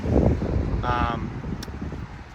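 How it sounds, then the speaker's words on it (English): Strong wind buffets the microphone on an outdoor walk along a road in Lynn, Massachusetts, a steady low rumble with gusts, while a voice briefly sounds beneath it. "it's still really windy out"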